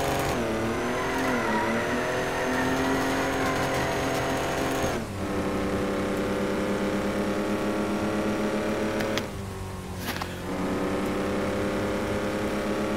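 The 'short bus' logging vehicle in a driving game, hauling a heavy log load on a winter map, keeps up a continuous loud, strained engine drone. The pitch dips and shifts a few times, with two short breaks in the tone.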